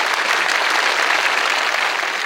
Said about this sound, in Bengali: তার জন্য করতালি